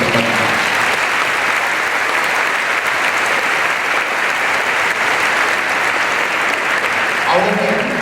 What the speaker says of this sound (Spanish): vamos a dar un aplauso maravilloso a la Virgen.